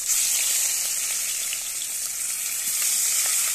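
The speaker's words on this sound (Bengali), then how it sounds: "আমি ভালো করে দুপাশ ভেজে নেব।" Fish frying in oil in a wok over a village-style cooking fire, a dense, continuous bright sizzle with faint crackles, loud and close with no talk.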